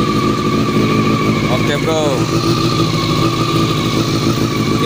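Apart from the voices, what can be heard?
Honda CBR NC23 four-cylinder motorcycle engine running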